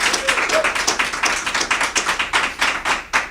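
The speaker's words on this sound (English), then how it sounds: "So another round of applause," A small studio audience on the Golden Road TV show claps for a guest in a quick, steady patter of close, crisp hand claps that keeps going without pause before ending.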